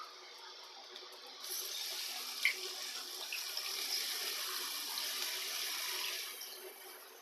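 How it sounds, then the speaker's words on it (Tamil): Water poured into a pan of chicken liver masala, a steady soft trickling pour that runs for several seconds at low volume, close by. "இந்த ஸ்டேஜில் நம்மளுக்கு தேவையான அளவுக்கு ஈரல் வேகிறதுக்கு தேவையான அளவுக்கு தண்ணி ஊற்றிக்கலாம்."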